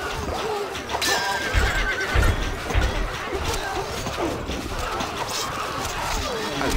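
A horse whinnies loudly in Stronghold Crusader, over clip-clopping hooves and occasional clashing impacts in a busy, layered soundscape.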